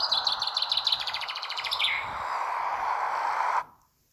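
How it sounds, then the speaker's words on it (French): Birds chirping outdoors in a landscape, bright rapid repeated tweets for about two seconds, then a steady soft wash of ambient noise that cuts off abruptly. "vous concentrez sur le bruit des oiseaux en même temps."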